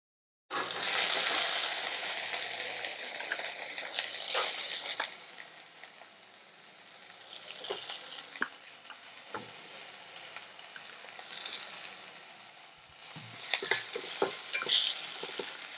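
Washed manathakkali berries hit hot oil with a loud burst of frying that fades into a softer crackle, then scattered stirring scrapes and clinks as the sizzle swells again.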